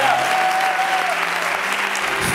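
Sustained applause from a studio audience on a Spanish late-night talk show, loud and steady throughout, with a faint tonal whistle near the start.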